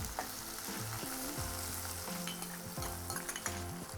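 Chopped onion sizzles steadily in hot oil with mustard seeds and curry leaves for a Kerala chicken ularthiyathu, a dense close frying hiss broken by scraping stirs and faint utensil clinks, no talking.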